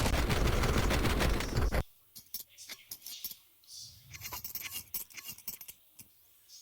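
Mac 10 submachine guns firing in Counter-Strike, an IEM Cologne 2024 match, a loud rapid burst at the start followed by scattered quieter shots and clicks in the background.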